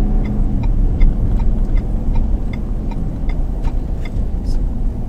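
Cab of a large truck driven in traffic on US-441 in Tavares, with a steady low engine rumble and a regular ticking indicator clicking throughout.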